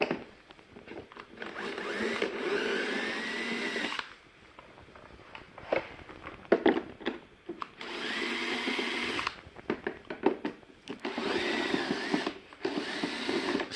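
A cordless power drill runs in two long whirring bursts, backing screws out of the plastic handle on a Ryobi RLM18E40H lawn mower. Shorter clicks and tool handling fill the gaps between the bursts.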